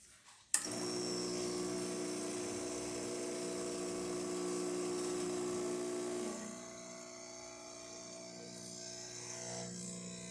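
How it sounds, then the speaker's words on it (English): ECM espresso machine pulling a shot, beginning with a sharp click followed by a steady, close pump hum that drops to a quieter, lower drone after several seconds. "So let's go ahead and test it, make a espresso shot on it."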